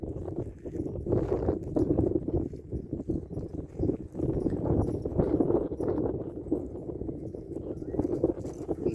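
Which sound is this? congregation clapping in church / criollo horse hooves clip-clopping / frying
criollo horse hooves clip-clopping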